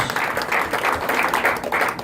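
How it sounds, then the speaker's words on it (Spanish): Church congregation at a night service applauding, a dense, continuous wash of clapping from many hands, loud and close, with no clear talk over it. "Den un aplauso fuerte al Señor esta noche"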